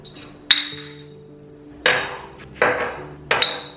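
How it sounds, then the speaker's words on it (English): Dishes clinking during washing, with three or four sharp ringing knocks of ceramic or glass against each other spaced across the moment, each followed by a brief rattle, over a quiet room hum. "The dishes never end"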